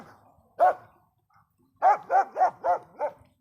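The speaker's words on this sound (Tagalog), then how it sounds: "Nagagalit na yung aso." A dog barks once, pauses, then lets out a quick run of five barks, loud and close in an otherwise quiet space.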